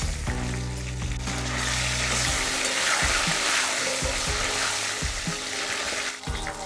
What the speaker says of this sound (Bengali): দিয়ে দেবো লবণ আর একটু হলুদ। ভালো করে ভেজে নেব।